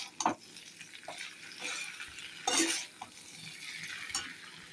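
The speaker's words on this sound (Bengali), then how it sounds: "এই যে চিংড়ি মাছটা দিয়ে এবার আবার নাড়াচাড়া করব" Shrimp is stirred in a hot frying pan for a Bengali snake gourd and potato curry. A spatula scrapes and clatters against the pan in uneven strokes over a continuous sizzle, with one louder, longer scrape midway.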